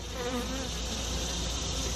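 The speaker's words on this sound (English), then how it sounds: "you have worker bees coming in and out, you know, your scout bees and your forager bees" Honey bees buzz steadily at the front of an established hive in fall, a dense, continuous drone of many workers, scouts and foragers flying in and out, close and even throughout with no talk.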